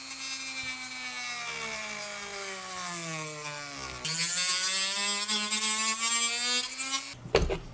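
A high-pitched off-brand Dremel rotary tool whines and grinds steadily, its pitch dipping and rising as it bites into material, close and loud.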